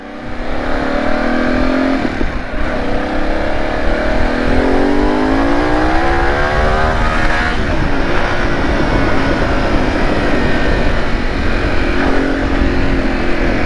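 A car driven over Saddleworth Moor in sport mode accelerates hard. The engine roar is loud and steady and rises in pitch through the gears, close up, with no one talking.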